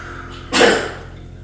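A single short, sharp sneeze bursts out close by against a quiet background.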